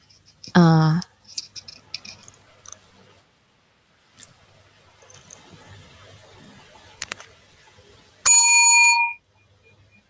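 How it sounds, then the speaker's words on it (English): At a school debate competition quarter-final, a test ring of the timing bell sounds near the end as one clear, bright, sustained tone lasting under a second. A long stretch of faint scattered clicks and shuffling comes before it. "now for the bell. The bell will be run after the first minute. Testing."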